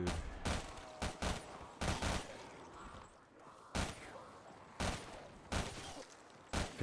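Box gun firing at zombies in a video game, with single loud shots spaced at irregular intervals, each a sharp crack over a quiet background.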